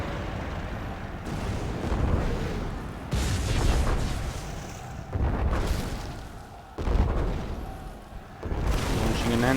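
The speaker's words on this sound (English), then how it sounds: "Launching an anthrax bomb." Launch of an anthrax bomb in the real-time strategy game Rise of the Reds, heard as a run of loud booming explosions and rumbling blasts, one after another, with battle noise in between.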